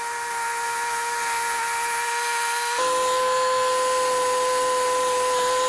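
An Enorossi BFT 150H sickle bar mower mounted on a Kubota BX tractor cuts grass with a steady, loud mechanical whine and drone that steps up slightly in pitch and volume partway through.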